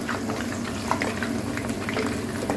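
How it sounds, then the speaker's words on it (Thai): Isan sour sausage frying in oil, giving a steady dense sizzle with small popping crackles, close and continuous, with no voices. "ใหม่ทอดให้เบิ้งก่อน"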